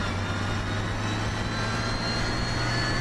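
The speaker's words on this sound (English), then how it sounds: "It's got quite a realistic sound gearbox." A steady low tractor engine drone in Farming Simulator 17, with a droning hum and faint gearbox whine, constant and unbroken, no speech.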